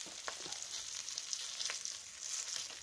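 Fish frying in a pan with only a little hot oil, a steady bright sizzle with scattered crackles and pops, close and alone with no voices.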